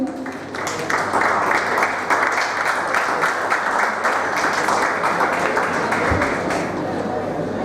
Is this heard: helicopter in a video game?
no